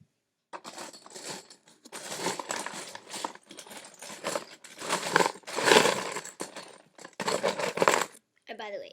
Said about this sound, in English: I just have a box of I have a box of Legos which I'm shuffling to get the pieces for.